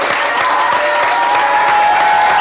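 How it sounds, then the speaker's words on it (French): A television studio audience applauds loudly during a French blind-test game show, with steady close clapping and a hint of cheering. "Ah, tu les mets, on t'applaudit."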